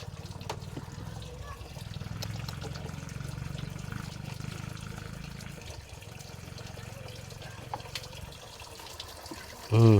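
Water poured for an animal to drink, a continuous trickling, splashing stream running for most of the stretch and easing off near the end.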